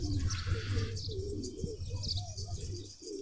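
Elvan pigeons in a coop coo softly and repeatedly, with low rolling calls and a few chirps close by and no talking.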